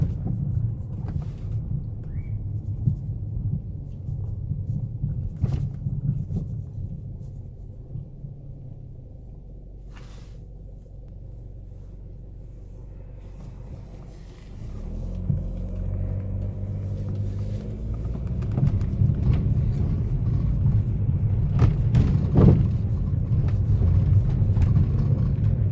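A car drives down Neptune in Coney Island, giving a low, steady road rumble and engine hum that dips quieter midway, then swells louder again, with a few faint knocks.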